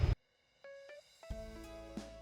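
A multimeter set to continuity test gives a short faint beep as its red and black leads touch, then a few more brief tones follow after a quiet gap, close and alone.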